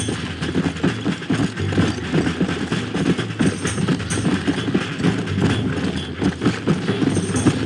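Horse hooves gallop in Red Dead Redemption, a rapid, continuous clip-clop rhythm with a low rumbling undertone throughout.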